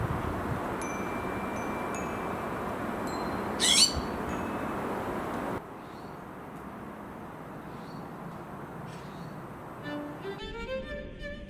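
Outdoors, a bird calls a few times against a steady background rumble, with one loud close call around four seconds and fainter chirps later, including a rapid trill near the end.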